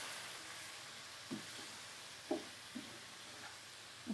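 Chilli powder, coriander powder, cumin powder and chopped green chillies frying in a pan over medium-low heat give a soft continuous sizzle, broken by a few short scrapes of stirring, with no one talking.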